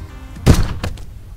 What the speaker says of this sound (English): Oh, it's a quiet gun.